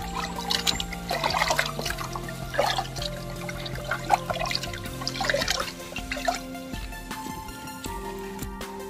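Beef pieces are being washed by hand in water, with continuous sloshing, dripping and trickling splashes that rise and fall in bursts, close by and moderately loud.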